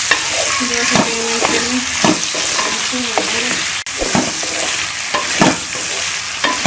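Garlic ginger paste frying in a pan for spiced potatoes, a loud continuous sizzle with repeated scraping and clinking as it is stirred, while someone talks over it.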